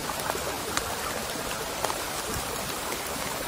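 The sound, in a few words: rain falling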